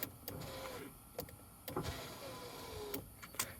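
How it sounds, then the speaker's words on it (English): Rear power window on a 2002-07 Jeep Liberty, fitted with a repaired regulator clip, whirs upward with a steady motor whine that rises slightly in pitch, broken by a few sharp clicks and knocks, close and alone. "hopefully my window should just go up"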